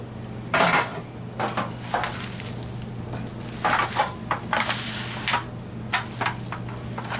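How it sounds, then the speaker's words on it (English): A whole trussed turkey being set into a deep-sided roasting pan, with several close, loud metallic clanks and scrapes of the pan, scattered irregularly over a steady low kitchen hum. "Then I'm going to put it in my pan, because you want a pan that has sides on it."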